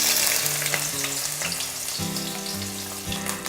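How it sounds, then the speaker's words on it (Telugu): Ginger sizzles and fries in hot oil in a pan, a steady crackling hiss with some stirring and clinking of a utensil, close and continuous. "కొంచెం ఆయిల్ హీట్ ఎక్కిన తర్వాత దీంట్లో జింజర్ వేసుకోవాలి ఫ్లేవర్ కోసం"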